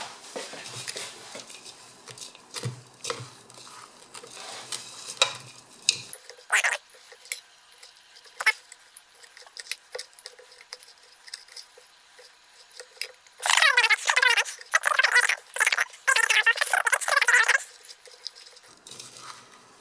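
Terrarium soil mix being stirred by hand, giving close, irregular gritty rustles and patters that stop, then return as a louder, denser scraping burst before tailing off.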